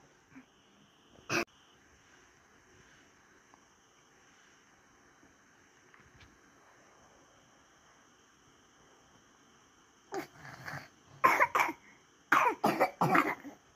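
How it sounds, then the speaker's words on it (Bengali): Children cough in bursts: one sharp cough early, then a cluster of several loud, close coughs near the end, with a quiet stretch between. "একজন আরেকজন রূপে কাশতেছে।"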